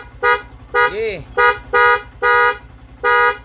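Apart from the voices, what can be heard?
Sniper 150 motorcycle horn sounding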